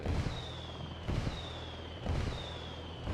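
Artillery strike explosions in the video game Ghost Recon Wildlands land as three loud booming blasts about a second apart, each followed by a rumbling tail, with no voices.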